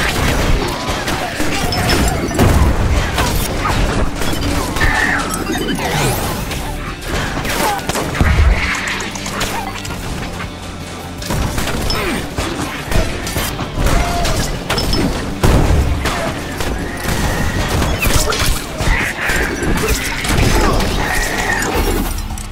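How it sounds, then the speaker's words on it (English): Grenade blasts and gunfire in the video game Slyders boom and crackle densely throughout, loud and continuous, with a few heavier low thuds standing out. "Let's go with a grenade on one."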